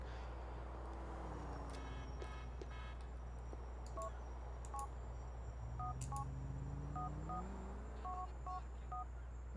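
A mobile phone goes off again and again with short paired electronic beeps in quick clusters, heard over a steady low engine drone from a car in a video game.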